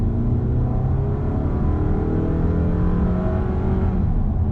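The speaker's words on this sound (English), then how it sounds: "It's gonna have that buzzy, droning noise in the actual cabin" A steady, buzzy four-cylinder engine drone heard from inside a 2021 Toyota Camry XSE cabin, low and continuous with no other sounds over it.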